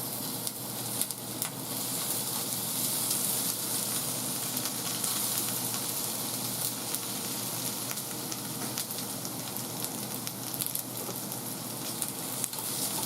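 Steady sizzling and crackling of frozen onions frying in a hot pan, continuous and fairly quiet, with no voices.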